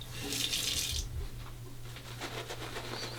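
Water runs from a tap during a wet shave with a Feather adjustable razor, a bright splashing stream for about a second, then quieter trickles and faint handling noises in a close, small room.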